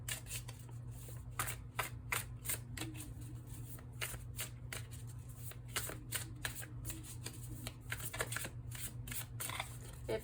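Tarot cards being shuffled in quick repeated riffles, a crisp rhythmic flutter of bursts over a steady low hum, close up, with no talking.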